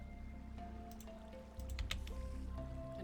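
Water flows in the Minecraft video game, soft dripping and trickling sounds with faint splashes and gurgles over a low background hum, growing slightly louder partway through.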